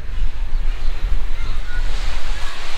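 Sea waves wash onto the shore beside a temple at Shiyalbet, a village on an island off the Gujarat coast. The surf makes a steady, loud, broad roar with wind buffeting the microphone, and no one speaks.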